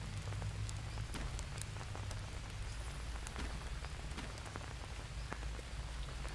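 Steady rain patters across surfaces in the jungle survival game Green Hell, a dense, even hiss with scattered sharper drops running unbroken and fairly loud, with no voices over it.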